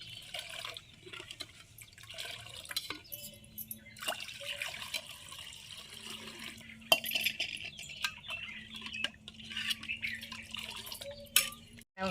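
Soaked white sorghum stirred by hand in water for Telangana-style ambali, with soft sloshing, trickles and occasional utensil taps against the vessel, faint and close, broken by short pauses.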